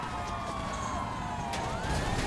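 A police car siren wails through the traffic of a GTA 5 game, a steady, sliding tone over a loud, constant engine and road rumble.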